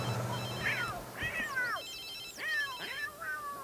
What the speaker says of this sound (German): Es läutet ein Telefon.